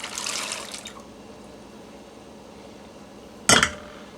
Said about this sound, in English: I'm going to put them in my crock pot that has the stock from the ham